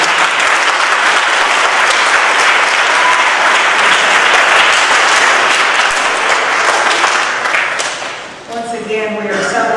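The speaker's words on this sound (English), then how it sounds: "Would you give them a round of applause, please?" Dense, loud audience applause at an adult education graduation ceremony, sustained clapping from a large crowd that holds steady and then eases slightly near the end.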